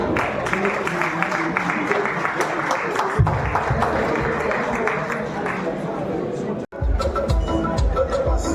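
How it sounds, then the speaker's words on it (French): Crowd applause at an awards ceremony for an African students' union in Meknes, Morocco: sustained clapping from many hands mixed with crowd murmur, with a brief cut-out near the end before the clapping resumes just as strongly. "Est-ce qu'on peut les applaudir,"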